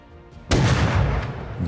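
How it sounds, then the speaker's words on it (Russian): Gunfire from the video game Rust booms as a sudden, loud burst of shots that cuts in and rolls on for over a second, with no talking over it. "Там стрельба."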